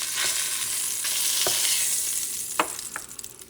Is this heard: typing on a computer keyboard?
no